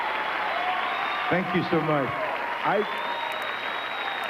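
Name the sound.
audience applause at award ceremony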